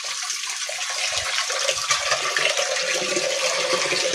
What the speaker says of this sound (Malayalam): കുറച്ച് പച്ചവെള്ളം ഒഴിക്കും പച്ചവെള്ളം കുറച്ച് ഒഴിക്കണം